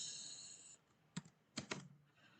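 A few sharp keystrokes on a computer keyboard, about four clicks in two small groups, quiet and close, following a faint steady electronic tone that fades out.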